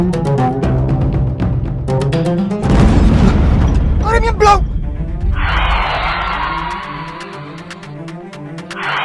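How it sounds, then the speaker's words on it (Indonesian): A car crash in a drama scene brings a heavy booming blast with skidding and tire squeal, loud and close, while voices and music run underneath. "Waktu terjadi kecelakaan, mobil meledak karena terbakar."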